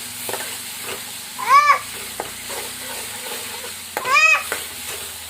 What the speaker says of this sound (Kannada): ಚೆಂದಾಗಿ ಫ್ರೈ ಮಾಡ್ಕೋತೀನಿ ರೀ ಎಣ್ಣೆ ಕಡಕ್ಕಾಗಿ